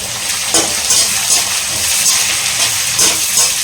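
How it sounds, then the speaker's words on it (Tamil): Onion, green chilli and curry leaves sauté in hot oil for rava upma, giving a loud, continuous sizzle and hiss with soft stirring scrapes throughout. "க்ரீன் சில்லியும் ஆனியனும் சேர்த்துக்கலாம். கருவேப்பிலையும் கூடவே சேர்த்துக்கலாம். சேர்த்துட்டு வதக்கலாம்."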